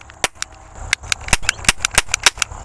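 A toy cap gun fires roll caps in a rapid string of sharp, close snaps, irregular at first then quickening into a dense run of pops.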